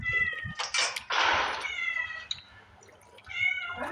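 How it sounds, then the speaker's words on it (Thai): A cat meows repeatedly nearby, several drawn-out, plaintive cries in close succession, fairly loud against a quiet background. "พอดีจะมีเสียงแมวหน่อยนะ"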